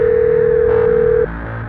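A single steady telephone tone sounds loud and clear for about a second before cutting off, leaving a faint low background hum.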